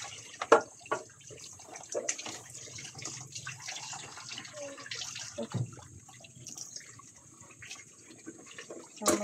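Dishes being washed under running water, a continuous trickle from the tap with irregular clinks and clatters of plates and utensils, fairly close, no speech.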